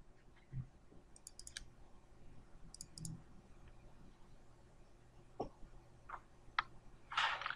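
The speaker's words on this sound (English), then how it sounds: "in GMAT you just double click things to bring up more information that you can edit" Soft mouse clicks in pairs, double-clicking in GMAT mission-planning software on a computer, with a few faint clicks scattered across a quiet room and no talking.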